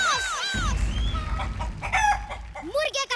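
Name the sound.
person imitating a rooster crowing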